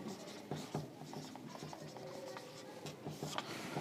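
A pen scratches out the words "Dettol soap" on paper, a soft close scritching in short strokes and taps with small pauses between them.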